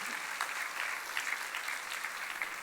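A church congregation claps together during a Sunday service in a brief burst of steady applause, dense and even, with no talking over it.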